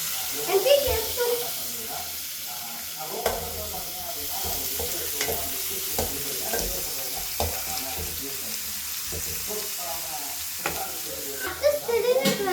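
Paneer curry is stirred in a pan, with a soft sizzle under repeated scraping and clanking of a spoon against the pan. The sounds come in irregular bursts close by, and a voice talks faintly in the background.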